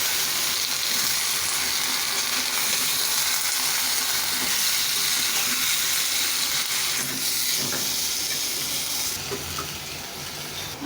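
Malabar spinach goes into a pan of frying spice paste, giving a steady, loud sizzle and crackle with faint stirring scrapes and no voices.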